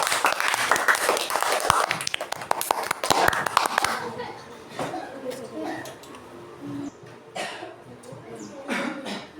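Classmates in a school lesson applauding a presenting group, a burst of sharp close clapping that fades out midway, followed by quieter murmuring and children's voices.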